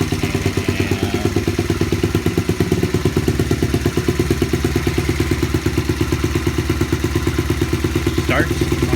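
A Honda XL75 motorcycle engine, a small single-cylinder bike bought at a swap meet, runs after a kick start with a steady, close, rapid putt-putt idle and mechanical clatter throughout, with no talking.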